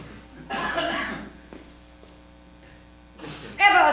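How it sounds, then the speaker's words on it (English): Two bursts of coughing, close by, separated by a quiet stretch with a steady electrical hum underneath. "Oh, don't cough"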